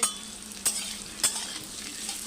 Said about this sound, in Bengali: ভালো করে নাড়িয়ে চাড়িয়ে তারপর আর একটু কষিয়ে নেব